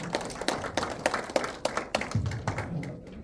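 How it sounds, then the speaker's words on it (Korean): A small audience at a Korean literary forum applauds its association president, a short burst of scattered hand claps that rises quickly and then thins out and stops within a few seconds. "다시 한번 백원의 회장님께 큰 박수 부탁드리겠습니다"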